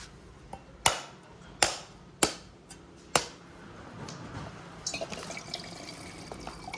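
A cracked coconut is struck with four sharp, loud blows, then its water trickles and splashes out in a faint, steady pour with small drips near the end.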